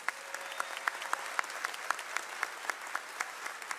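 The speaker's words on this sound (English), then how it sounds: "Please give them a round of applause." A crowd applauds steadily at a high school graduation, dense clapping with a few sharper claps standing out, continuous throughout.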